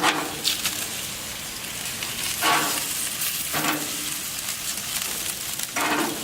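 Asparagus sizzles loudly in a hot pan as it goes in, a steady close frying hiss with a few louder crackling surges as more spears are added.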